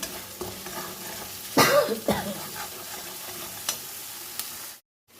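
Potatoes sizzle in mustard oil with spices in a pan as they are stirred, a steady fry broken by a louder scrape and clatter of the spoon partway through before it cuts off near the end.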